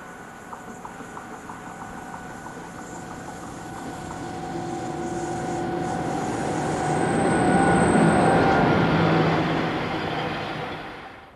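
BB 25500 dual-voltage electric locomotive passing on the line, a steady rolling rumble and hum that swells gradually to a loud peak near the end, with wheel tones and faint squeal, no voices.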